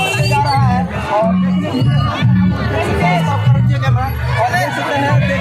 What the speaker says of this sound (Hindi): यहाँ पर लगातार यहाँ पर भीड़ बढ़ते जा रहा है